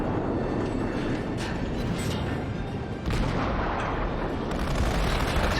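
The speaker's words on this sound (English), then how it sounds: "I figured out a good shooting solution to fire at his structure" Warship main guns firing in the naval battle game World of Warships, with a dense continuous rumble of heavy booms and explosions filling the whole stretch.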